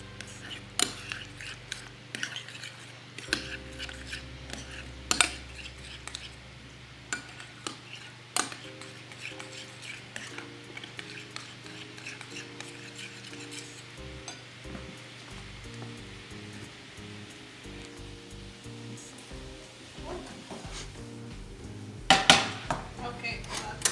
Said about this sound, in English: Mix this all together.